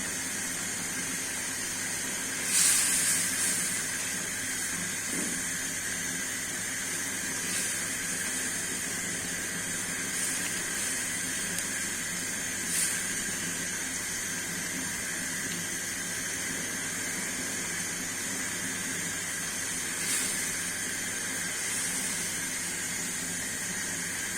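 Fried tengra fish added to a pan with mustard oil gives a steady, even sizzling hiss that runs throughout, broken by a few soft bumps and clinks.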